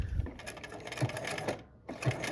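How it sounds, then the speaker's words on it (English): A sewing machine sews a quilt seam, backstitching to lock it: short rhythmic runs of fast mechanical clatter with brief pauses between them, close and fairly quiet. "we're going to take a couple stitches, and then we're going to take us back to that where we started"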